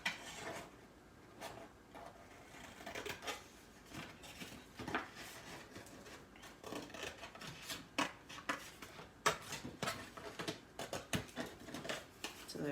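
Scissors cut out rectangular paper building shapes, giving quiet, irregular snips and paper rustles at close range with soft handling noises between cuts.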